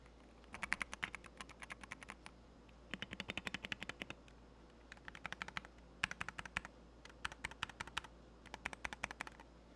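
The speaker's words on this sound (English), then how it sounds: "let me give you guys a sound test before we even plug in the keyboard" Typing on an unplugged Wooting 60HE keyboard with Lekker switches: crisp, close keystroke clatter in quick bursts of several seconds, separated by short pauses, alone in a quiet room.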